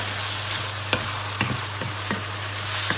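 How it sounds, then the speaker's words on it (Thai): Minced pork stir-fried with chili in a pan without oil sizzles steadily, with a spatula scraping and clacking against the pan in irregular strokes, close and alone. "ผัดไปจ้ะ"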